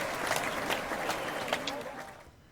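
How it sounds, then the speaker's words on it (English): Studio crowd applause sound effect on a live Hollywood radio talk show, a steady wash of clapping and cheering that fades toward the end. "the crowd goes wild for Jay"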